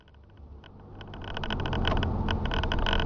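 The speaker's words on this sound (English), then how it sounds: "We're just going down the highway." A truck with a topper cruises down the highway, its engine and road noise a steady close drone that gradually swells louder, with no talking.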